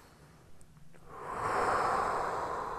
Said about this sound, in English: Breathing in and out of the nose.